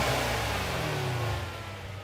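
A Mercedes C63 SE Performance plug-in hybrid, a matte graphite-gray sedan with a 471-horsepower four-cylinder engine plus electric assist, gives off a steady, close engine drone that eases slightly toward the end, with no talking.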